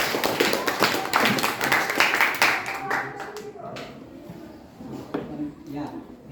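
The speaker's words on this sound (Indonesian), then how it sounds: "Ya, tepuk tangan." Students in a classroom clap together, sharp irregular hand claps that are loudest at first, then scatter and fade, with a teacher's voice talking over them.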